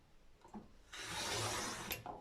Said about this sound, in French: on va couper la première partie de l'enveloppe